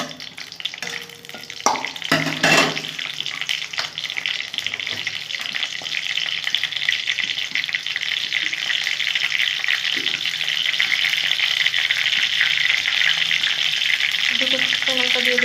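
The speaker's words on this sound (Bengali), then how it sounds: "তেল গরম করে নিয়েছি, কালো জিরা দিয়ে দিলাম, তেজপাতা দিয়ে নিলাম" Black cumin and bay leaves frying in hot oil for a Bengali lentil kofta dish: a steady, close, dense sizzle holds throughout, with a brief clatter early on and faint voice-like tones near the end.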